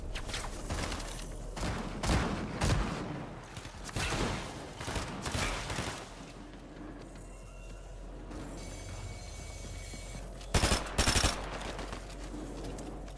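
SMG fire in Fortnite, rapid bursts of gunshots in short clusters over several seconds, with distant shots and quieter game ambience between bursts.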